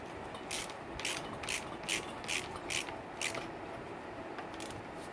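Ratcheting clicks of a Yamaha YZ fork part being tightened by hand, a regular run of about seven close, crisp clicks over steady low background noise.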